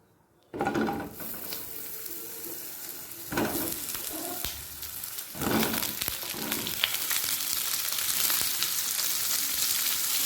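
Pointed gourd frying in a little mustard oil with salt and a pinch of turmeric, a steady close sizzle broken by occasional stirring scrapes, with no talk.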